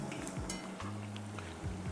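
Steady sizzling and crackling of chicharrones frying in hot oil in a pan, continuous and fairly quiet, with no talking.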